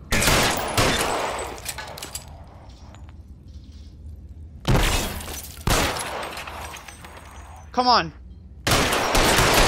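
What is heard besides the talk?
gunshots in the video game L.A. Noire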